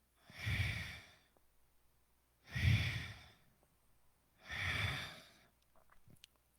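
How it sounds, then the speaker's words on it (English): Three slow, deep exhalations during a breathing exercise, evenly spaced about two seconds apart, each a soft breathy whoosh rising and fading, close and fairly quiet with silence between. "Exhale."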